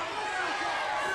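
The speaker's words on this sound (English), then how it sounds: "listen to the crowd. They're saying, hit him" Wrestling crowd at a ladder match, loud continuous roar and chanting from a packed audience, dense and steady throughout the short moment.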